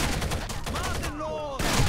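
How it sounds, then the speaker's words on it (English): Rapid game gunfire from Rainbow Six Vegas, a close shotgun blast in a tense firefight, loud and dense for under two seconds with a brief dip in the middle. "Dude came around the corner and hit me with a shotty."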